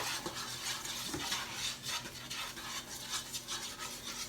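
Chili powder is stirred into butter in a pan, a soft repeated scrape of a utensil against the pan over a faint sizzle, close and quiet.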